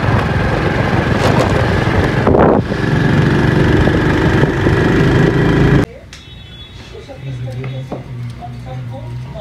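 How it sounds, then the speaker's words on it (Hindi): A motorcycle engine drones steadily while riding through town, with wind rush over the ride, then the noise drops to a quieter, lower engine hum with faint sounds around it. "बिल्लू मोटरसाइकिल पे जा रहा हूँ जी मैं।"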